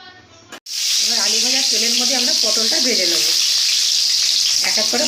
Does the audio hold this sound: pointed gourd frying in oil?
yes